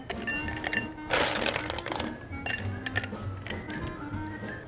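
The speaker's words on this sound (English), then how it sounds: "Fill your glass to the top with ice." Ice cubes clatter and crack as they are loaded into a glass to the top for a Christmas drink with lime, mint and cherries, a close, busy run of clinks and knocks.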